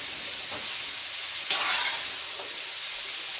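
Sweet potatoes, caramelized onions and broccoli stems fry in a pan with a steady, hissing sizzle, and one brief louder burst as something is stirred or added.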